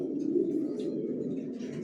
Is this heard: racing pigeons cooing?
yes